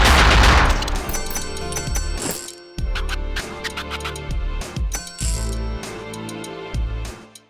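Gold coins spilling from a slain enemy in the Luckslinger video game, a bright jingling clatter of many coin drops layered over loud game music and gunfire-like bursts, with no talking.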